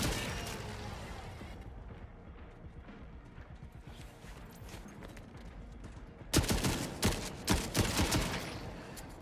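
Gunfire in the video game Gunhead: rapid, fairly distant bursts of clattering shots early on, then a louder cluster of sharp, close reports in the final seconds, with no talk.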